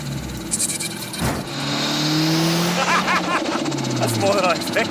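Budget-built turbocharged Honda Civic without VTEC pulling away with passengers aboard, its engine note climbing loudly through revs and gear changes from inside the cabin while occupants talk.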